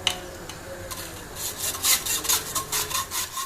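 A spoon stirring and scraping a coffee pudding mixture in a pan, producing repeated close rubbing scrapes that grow busier and louder partway through, with no voices.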